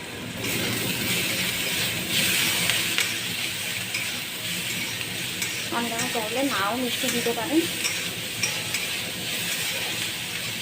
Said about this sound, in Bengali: খোসাটা দিয়ে একটু ভালো করে ভেজে নেব।